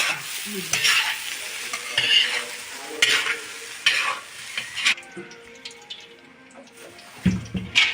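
Fried rice stirred in a pan with a spatula, producing repeated scraping strokes roughly every second over a soft sizzle, close and fairly loud, then a looser clatter and swishing near the end.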